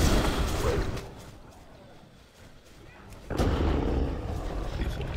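A raid boss explodes during a World of Warcraft AQ40 fight: a loud, sustained rumbling blast that dips, then a second heavy burst rises and keeps roaring to the end.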